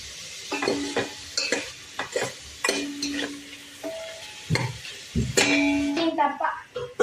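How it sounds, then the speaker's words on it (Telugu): Green chillies and onions are stirred in a frying pan for a chicken biryani, and they sizzle under repeated clanking scrapes of a spoon against the pan. Short tonal knocks and utensil clinks come at an uneven rhythm, close and fairly loud. "మిర్చి ఆనియన్స్ వేయాలి. మిక్స్ చేయాలి."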